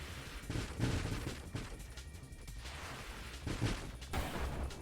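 Rammer enemies blowing up in the space shooter Nova Drift, a dense run of overlapping muffled explosions and bursts over a constant game-sound bed.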